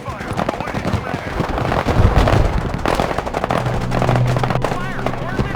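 Gunfire and battle noise from the Broken Arrow war game fill the scene continuously, with a dense rumble of shots and impacts, a heavier burst near the middle, and radio-style voices talking over the fighting.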